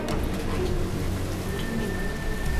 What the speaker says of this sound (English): Guys, it's raining outside.